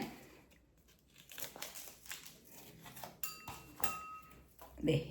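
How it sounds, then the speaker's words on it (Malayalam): A packet of chia seeds is torn open up close, with a crinkling rip of plastic and a few light clinks of a spoon and bowl, quiet overall, with faint voice in the background. "ഇതിനായിട്ട് നമുക്ക് ചിയാ സീഡ് ഒന്ന് പൊട്ടിക്കണേ."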